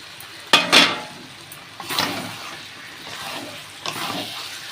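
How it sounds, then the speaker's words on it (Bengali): Chunks of mutton go into a pan of oil-released fried spices for a thin Bengali goat curry, giving a couple of sharp clattering hits followed by softer sizzling and stirring scrapes, close and without talk. "এবার আমি মাংসটা দিয়ে দেব।"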